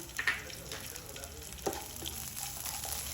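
Garlic cloves and cumin seeds frying in hot oil, a soft continuous sizzle with a few light clicks and spoon taps over a few seconds, with no talking.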